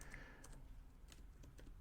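Soft clicking keystrokes on a computer keyboard as a search is typed, in a few short quick bursts, faint and close.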